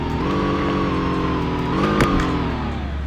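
Redeye car engine revving steadily with a loud, close exhaust drone that rises and falls, with a sharp crackling pop from the exhaust after the downshift, heard alone without speech.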